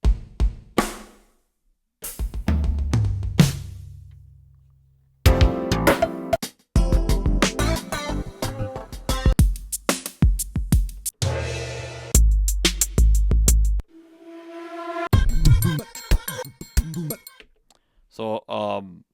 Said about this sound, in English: So an 80s drum sound might sound like this.